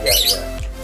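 A bird gives a brief, sharp squawking call, loud and close, with a second short burst just after.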